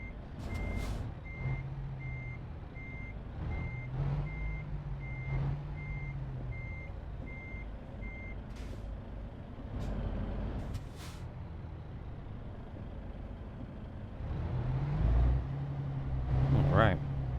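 Reversing beeps and a big truck engine in Euro Truck Simulator 2 as the rig reverses and manoeuvres to hitch a trailer, with repeated steady beeps, a low engine drone and air-brake hisses, and louder revving near the end.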